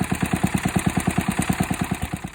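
Old tractor engine idling after an ignition repair, a steady, even chugging pulse of regular firing beats, close and moderately loud with no talk.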